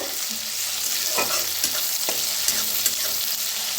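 Peanuts, green chillies and garlic roasting in a pan for Maharashtrian thecha: a steady soft sizzle with scattered scraping and tapping stirs, close and moderately quiet, with no talking.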